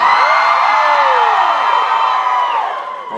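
A concert crowd at a Supernatural fan convention screams and cheers loudly, a dense sustained roar of many voices with rising and falling shrieks that fades slightly toward the end.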